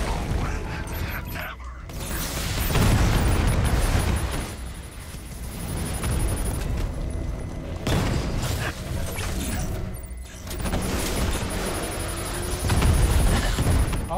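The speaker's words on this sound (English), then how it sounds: "Explosions. That's a lot of explosions." Repeated explosions in the video game Batman Arkham Knight, loud booming bursts with rumbling and clattering debris rolling through the whole stretch, swelling in several waves with brief dips between.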